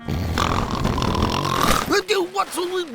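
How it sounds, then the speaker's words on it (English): Grandpa Pig in the Peppa Pig cartoon lets out a long, rumbling snore, followed by softer grunting snorts, with a voice speaking just after. "Just Grandpa Pig snoring."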